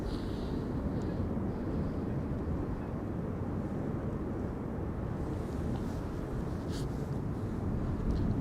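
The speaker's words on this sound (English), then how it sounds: "This is KLM flight 1788 arriving from Hanover in Germany. It is an Embraer 190." A KLM Embraer 190 arrives at Amsterdam Schiphol Airport on a windy day, giving a steady, broad jet rumble blended with gusting wind that holds at an even level throughout, with no voices.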